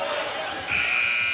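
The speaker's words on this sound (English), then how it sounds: "as the shot clock buzzer sounds" Shot clock buzzer sounding at a men's college basketball game between UCF and ECU, a sustained electronic tone rising out of arena crowd noise for the second half of the moment.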